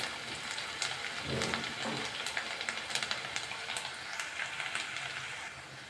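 Onion, curry leaves and crushed garlic fry in a pan for a pepper curry, a soft continuous sizzle with occasional crackles and the light scrape of stirring, fairly quiet and without talk.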